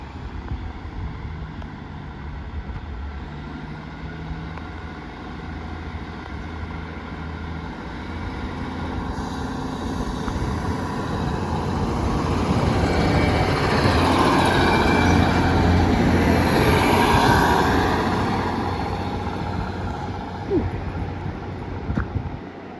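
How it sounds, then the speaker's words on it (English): A Transport for Wales passenger train pulls out of Grangetown station bound for Penarth, a steady low rumble that swells to a loud peak midway as it passes close, then eases off, with wind buffeting the microphone. "Departing now will be the 1554 Transport for Wales service to Penarth."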